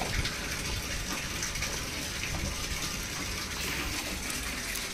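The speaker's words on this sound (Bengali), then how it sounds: "পাইপটা থেকে জল পড়ছে না বলে আমি ওই গামলাও ভর্তি করতে দিয়েছি" Water pouring into a tub at home, a steady close gushing rush that holds constant throughout with no voices.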